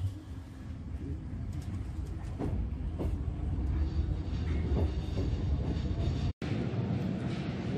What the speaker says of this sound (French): On monte dans le métro.